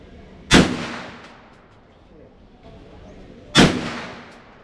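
Two loud, sharp gunshots from an AK47 or M16 rifle at an outdoor shooting range in Ho Chi Minh City, Vietnam, spaced about three seconds apart, each with a ringing decay.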